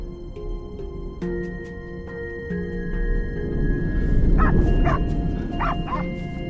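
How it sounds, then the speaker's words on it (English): A hunting dog barks at a cornered wild boar, sending out a few sharp, repeated barks over a steady, tonal musical backdrop. "Hunters then tune into the dog's barking, using it as a precise signal to pinpoint the boar's location"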